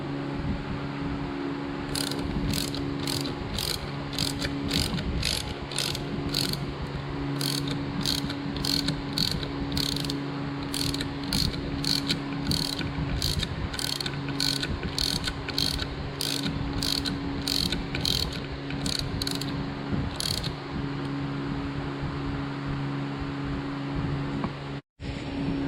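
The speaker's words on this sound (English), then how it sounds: "And then I'll just use my ratchet" A hand ratchet clicks in quick, even bursts while tightening a tool on the cylinder head of a Honda D16Z6 engine during valve spring work. The close rapid pawl clicks pause briefly between strokes over a steady background hum.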